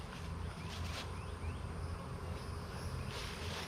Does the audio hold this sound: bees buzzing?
yes